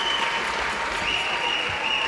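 A French crowd applauds at a women's junior world championship ice hockey gold medal match, a dense, loud, even wash of clapping from a large arena audience that holds steady throughout.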